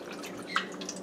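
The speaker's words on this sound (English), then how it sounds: "You have to strain it after it's finished" Sorrel drink strained through a strainer, liquid dripping and trickling softly, a single brighter drip standing out midway through a short, quiet stretch.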